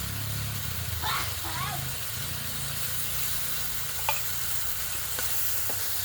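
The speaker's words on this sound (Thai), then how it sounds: "เราก็จะผัดให้เข้ากันเลยนะครับ" Canned sardines in tomato sauce being stir-fried in a pan, a steady close sizzle with scraping stirs and a few light utensil clicks, while someone talks over it.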